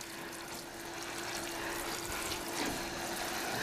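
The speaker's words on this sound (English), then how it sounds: "We might as well water the whole lot" Water poured over succulent plants such as lithops and a propagated Crassula, a steady continuous splashing and trickling stream close by, with no talking.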